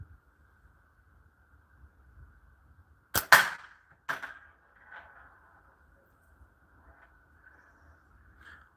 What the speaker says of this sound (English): Since I've been shooting the 8mm this morning